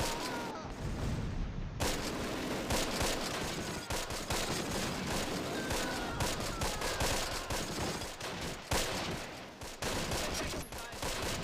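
Sustained MG42 machine-gun fire from the wargame Close Combat: Last Stand Arnhem, a dense continuous fusillade of overlapping bursts with booms mixed in, loud and relentless throughout with no pauses.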